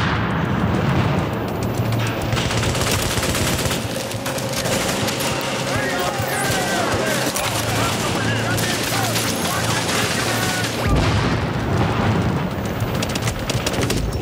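Rapid gunfire and explosions in The Division online multiplayer gameplay at the Russian Consulate, dense bursts of shots and booms continuing for several seconds, loud and close, with a sudden lull near the end.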